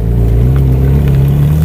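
A Ferrari 458 supercar at a car club meet gives a loud, close, steady low engine drone that holds evenly throughout the short stretch.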